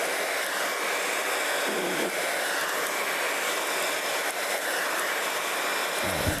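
A hair dryer blows continuously with a loud, steady whooshing roar, close by and uninterrupted.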